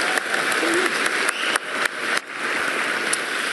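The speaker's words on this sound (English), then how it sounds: "we should give him a round of applause" A conference audience applauds in a steady, even wash of clapping that holds at a constant level, with a few sharper claps standing out.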